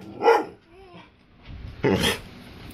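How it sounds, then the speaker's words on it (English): A riled-up dog gives two loud, close barks about a second and a half apart, with a faint whine in between. "I think that bark would scare anybody."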